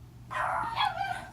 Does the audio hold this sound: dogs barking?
yes